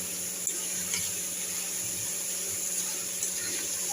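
Fish curry spices sautéing in oil in a pan give off a steady, fairly quiet sizzle and hiss throughout, with a faint low hum beneath and no talking.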